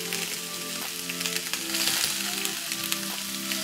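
Paneer and vegetables fry in ghee with a steady, close sizzle, dense crackling and popping carrying on unbroken, while soft tonal hum and background sounds stay under it.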